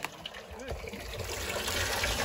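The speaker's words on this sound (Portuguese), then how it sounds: "Olha a água aí." Water gushes steadily from a newly installed well pump outlet, a continuous broadband rush that grows fuller over a couple of seconds, with people talking over it.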